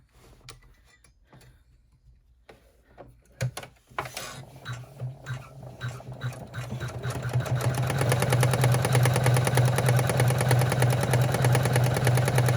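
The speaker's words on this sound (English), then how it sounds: "now we're going to go ahead and top stitch" An embroidery-style sewing machine top stitching a flapped purse: scattered clicks and taps at first, then the motor builds into a steady, close, rapid mechanical whir with rhythmic needle ticking.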